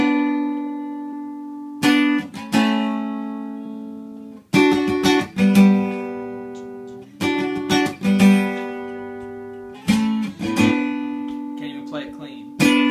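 An electric guitar plays a song's intro riff, with clean picked notes and ringing chords in short repeated phrases separated by brief gaps, loud and close, with no talking.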